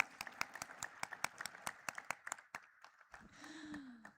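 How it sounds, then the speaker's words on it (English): Sparse, separate hand claps from a small audience at a company stock listing ceremony, an uneven rhythm of sharp claps fading out, then a brief tonal sound at the end. "Can we have a huge round of applause for laser power and infra"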